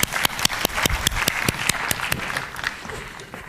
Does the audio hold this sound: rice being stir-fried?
no